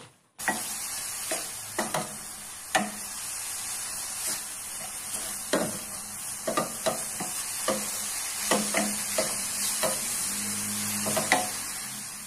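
Grated coconut cooks in a pan for wingko babat, a steady soft sizzle broken by irregular scraping strokes of a spatula stirring it, close and without talk.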